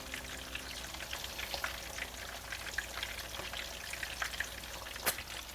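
Meatballs sear in a hot pan, a soft, continuous sizzle with scattered small pops and crackles, fairly quiet and close, with one sharper pop near the end and no talking.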